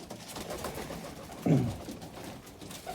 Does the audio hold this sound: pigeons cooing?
yes